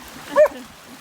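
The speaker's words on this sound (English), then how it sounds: "he also barks underneath the water" A single short, high-pitched dog bark or yip underwater, muffled and brief, over faint background noise.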